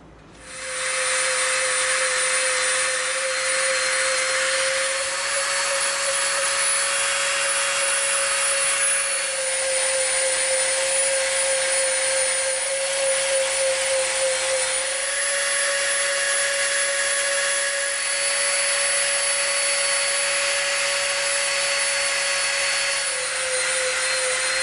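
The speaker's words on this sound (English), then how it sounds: "we're gonna Dremel this edge right here to be a bevel." A Dremel rotary tool grinds a bevel into the edge of EVA foam for a cosplay shield, a loud, steady high-pitched whine running continuously with a slight shift in pitch partway through.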